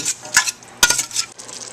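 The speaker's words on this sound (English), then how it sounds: "what we're doing right now is we're sauteing these onions and peppers" Onions and peppers sautéing in a pan with Italian seasoning, heard as a few sharp scrapes and clinks of a utensil against the pan, close and loud, over a faint sizzle.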